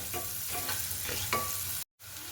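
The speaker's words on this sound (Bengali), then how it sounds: "পেঁয়াজটাকে ভেজে নিচ্ছি" Chopped onion frying in oil for a Bengali cauliflower curry, sizzling steadily with several scraping strokes of a spoon in the pan, broken by a brief dropout near the end.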